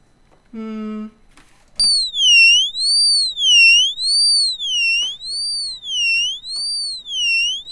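After a short buzzy synth note and a click, a bright high modular synthesizer tone, audio-rate modulated with a Cold Mac module, sounds, its pitch sweeping up and down in a steady, repeating wobble.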